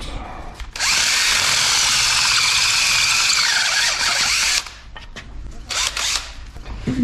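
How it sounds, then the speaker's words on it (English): A worn power drill bores out a drum brake part on a 1963 Chevy K10 4x4, running loud and steady for about four seconds with a whining grind, then stopping and leaving brief rattles and handling noises. "We're gonna have to drill this one out."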